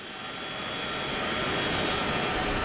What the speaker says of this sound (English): and the military jet departs.